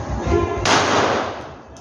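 A single loud gunshot at a shooting range: a sharp, close crack that hits abruptly, then fades into a short ringing decay, with no talk.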